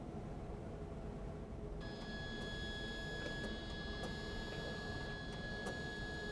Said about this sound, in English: you will need to feed calibrate out some blank labels so the printer can look at the manual roll